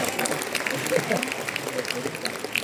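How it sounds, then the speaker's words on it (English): Audience applause at a talk or seminar, a steady patter of clapping mixed with faint voices, moderately loud throughout. "Give me a big round of applause."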